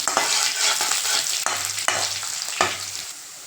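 Crushed garlic sautéing in a pan for a potato fry, a loud close sizzle broken by several scraping stirs at an uneven rhythm, with no voices.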